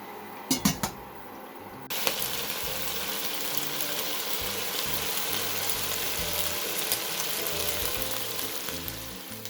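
Pieces of boiled kienyeji chicken frying in hot oil in a pan, a steady close sizzle filling the scene after a few sharp clinks of utensils at the start.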